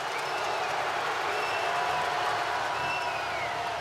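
A basketball arena crowd at a New Zealand Breakers vs Tasmania JackJumpers NBL game roars and applauds in a dense, continuous wall of cheering with faint voices underneath.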